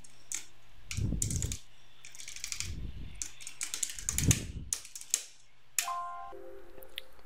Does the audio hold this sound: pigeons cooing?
no